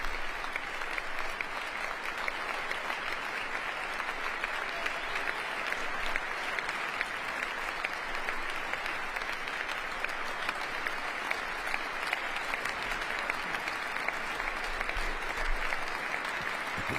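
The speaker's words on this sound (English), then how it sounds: "Lots of applause for that one." Sustained, dense applause from a large audience at a political speech runs evenly for the whole stretch, steady loud clapping with no talk over it.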